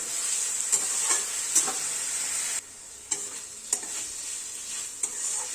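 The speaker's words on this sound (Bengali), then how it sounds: "তো মশলাটাকে দিয়ে দিলাম, একটু ভালো করে নাড়াচাড়া করব।" Sesame paste, chilli and spice mix being stirred into bitter gourd frying in a pan: a steady bright sizzle with several distinct scraping stirs of a spatula, briefly quieter partway through, no talking.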